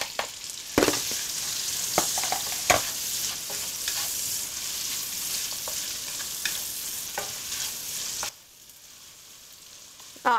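Onions frying in a pan for Malaysian Hokkien mee, cooked until soft: a steady, moderately quiet sizzle with several sharp stirring scrapes, which drops away near the end.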